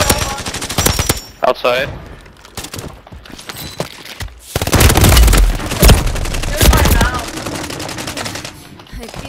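Bursts of automatic gunfire in Call of Duty: Warzone, loud and close, clustering in sharp volleys with heavier booming stretches between, while players talk over the shooting.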